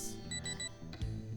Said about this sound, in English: If you hear 3 beeps, it means you have left the zone of coverage